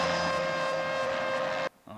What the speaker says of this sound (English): Oh, they're surrounding the helicopter.